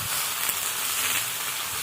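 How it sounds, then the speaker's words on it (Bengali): Dried fish frying in a pan with winter vegetables, a steady close sizzle and hiss throughout, no talk. "এবার শুটকিটাকে এর সাথে ভালো করে ভাজতে হবে।"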